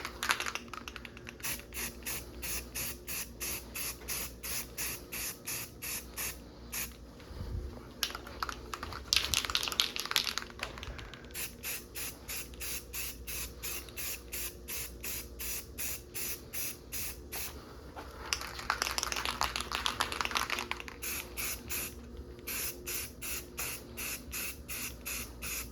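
Steady hiss of an aerosol spray paint can painting a roof rack for a 3rd-generation Toyota 4Runner, sprayed in repeated short bursts with a couple of longer, louder passes.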